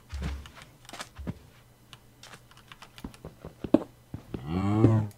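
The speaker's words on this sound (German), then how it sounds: "Diese Kühe wissen nicht, was sie erwartet." A Minecraft cow lets out a drawn-out moo near the end, after several seconds of steady computer keyboard clicking close by.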